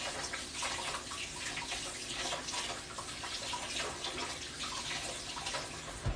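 Tap water runs steadily from a faucet over a cake tester in a kitchen sink, a continuous close splashing rush that holds even for the whole stretch with no voices.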